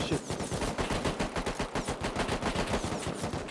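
Rapid automatic gunfire in the survival video game Rust, a steady burst of repeated shots fired in quick rhythm, loud and close for the whole stretch.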